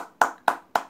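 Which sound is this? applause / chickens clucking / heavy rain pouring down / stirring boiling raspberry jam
applause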